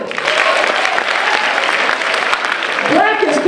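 An audience at a high school Black History Month program claps steadily throughout, a dense, sustained wash of applause with a voice rising briefly near the end.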